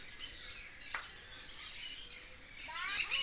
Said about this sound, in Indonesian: ini parkit. Parkit Ringneck India.